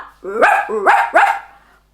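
A person imitates a dog, giving three quick barking "woof" sounds in a row, close and clear.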